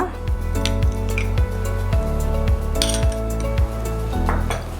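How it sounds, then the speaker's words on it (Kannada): Rose milk with chia seeds and whipping cream is stirred briskly in a vessel with a spoon, giving loud, close, rhythmic metal clinks and scrapes repeating about twice a second over a steady low hum. "ಇದನ್ನು ಚೆನ್ನಾಗಿ ಮಿಕ್ಸ್ ಮಾಡ್ಕೋಬೇಕು"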